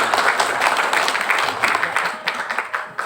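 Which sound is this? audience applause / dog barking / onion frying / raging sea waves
audience applause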